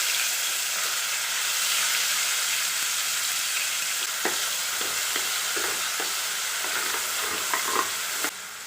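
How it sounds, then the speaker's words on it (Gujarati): Onion and tomato puree fries in hot oil with a constant bright sizzle, close and even, with light stirring taps toward the end. "થોડી વાર તેલમાં આપણે ફ્રાય થવા દઈશું।"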